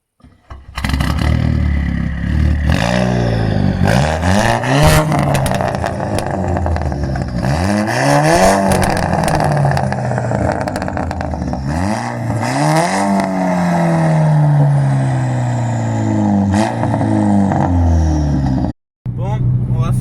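A car with an automatic gearbox and a stainless steel exhaust line starts up and is revved hard several times, the loud engine rising and falling in repeated sweeps before a brief cut, then idling on.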